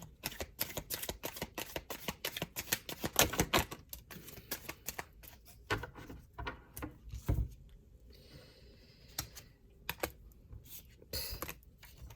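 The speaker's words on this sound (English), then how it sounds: "One more shuffle here." A deck of tarot or oracle cards being shuffled by hand, close up, with a run of quick riffling and tapping bursts spread over about twelve seconds and short pauses between them.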